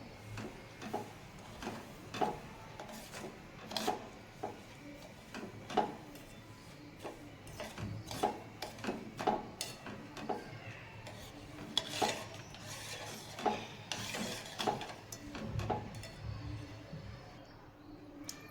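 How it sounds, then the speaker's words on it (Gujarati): A spoon stirring sugar and ghee in a pan heating on the stove, with steady, soft scraping and clinking strokes repeating at a slow, even rhythm throughout. "આપણે આ રીતથી ધીમે ધીમે હલાવશું, જેથી કરીને ખાંડ બધી ઓગળી જાય અને ઘી પણ ઓગળી જાય"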